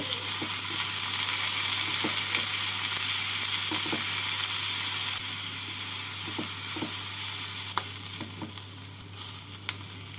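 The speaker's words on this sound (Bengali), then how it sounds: "পেঁয়াজ শুকনো লঙ্কা আর রসুনটাকে দু মিনিট মতো ভেজে নেব" Garlic, chopped onion and dried red chilli fry in a pan with a loud, continuous sizzle, while a spoon stirs and scrapes in occasional bursts and the hiss thins a little toward the end.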